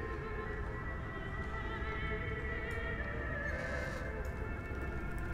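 Continuous, strained squealing and grunting from a pig creature in the horror game Amnesia: A Machine for Pigs sits over a heavy low background drone and holds steady throughout, with no voices.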